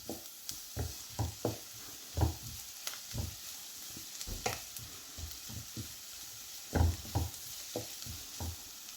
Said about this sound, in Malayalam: ആദ്യം തന്നെ തേങ്ങ ഇട്ട് കൊടുത്ത് ഉള്ളിയോടൊപ്പം തന്നെ വഴറ്റി കൊടുക്കുന്നത്